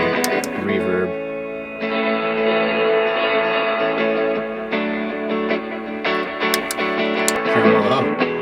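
Electric guitar chords played through a reverb pedal ring out with a wash of reverb, notes lingering and blending into a spacious tail between strums.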